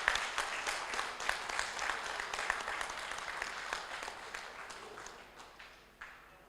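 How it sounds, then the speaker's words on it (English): An audience at an oncology gathering applauds the host, a steady, fairly faint wash of many hands clapping for several seconds, thinning out near the end. "So all big clap for her."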